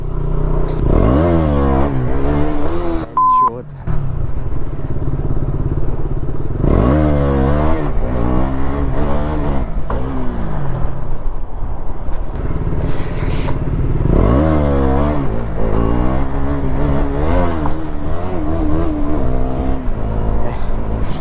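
A KTM Duke 200 motorcycle revs hard through a wheelie, its engine rising and falling in repeated loud climbing sweeps, close and continuous, with a brief scraping clatter early on.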